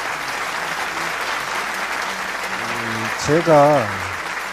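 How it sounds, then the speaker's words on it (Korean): Audience applause fills a large Korean rally hall after a speech by Cambodian Prime Minister Hun Sen, steady dense clapping throughout with someone speaking over it near the end. "여러분 다시 한번 감사의 박수를 보내주시면 좋겠습니다"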